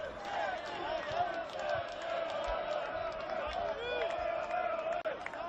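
Home supporters at a St George Willawong versus Gold Coast Knights NPL men's football match, a steady loud crowd roar with voices chanting and cheering throughout, continuous and dense with no clear breaks.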